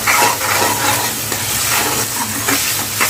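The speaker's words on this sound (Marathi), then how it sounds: "छान मस्तपैकी आपल्याला हा कांदा याच्यामध्ये फ्राय करायचा आहे, चांगला शिजून घ्यायचा आहे." Onion frying in a pan for a fish dish, a steady broadband sizzle with soft stirring scrapes throughout, close and fairly loud, no voices.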